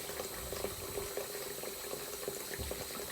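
Shower water runs steadily, a continuous close hiss and patter of spray with small splashes and drips over it while hair is washed with conditioner, no talking.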